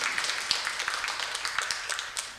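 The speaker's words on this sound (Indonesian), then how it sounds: "Yuk tepuk tangan buat Tuhan kita." A church congregation claps hands together, many overlapping claps forming a dense, fairly even patter at moderate volume, with no voices clearly heard.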